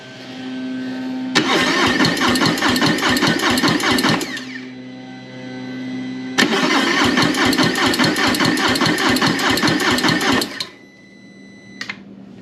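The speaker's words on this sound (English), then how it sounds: "Okay, let's turn the bike on." A Harley-Davidson Low Rider ST motorcycle engine in neutral cranks and fires loud and close in two long bursts of rapid, pulsing combustion, with a lower idle hum between them and a brief clatter as it settles at the end.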